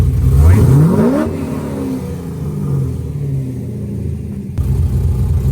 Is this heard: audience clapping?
no